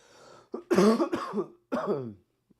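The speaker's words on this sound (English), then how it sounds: "apologize about the coughing" A person coughs in several harsh bursts, a short cough followed by a longer fit and one more, with no talking.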